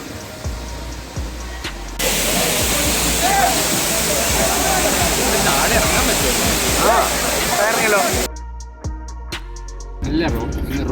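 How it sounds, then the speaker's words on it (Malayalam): A roadside waterfall roars loud and steady for several seconds, with splashing water, before the sound cuts out abruptly. Speech can be heard around it. "വഴിയിലൊരു വെള്ളച്ചാട്ടം കണ്ടു."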